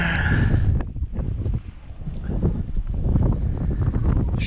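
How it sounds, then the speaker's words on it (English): Strong wind buffeting the microphone outdoors on the ground at an airfield, a steady loud rushing roar that dips briefly and then surges back, with no voice. "as you can tell by the wind blowing my hair"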